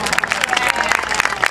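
Live audience at a radio broadcast event applauding loudly, a dense crackle of many clapping hands with crowd noise mixed in, close and sustained throughout.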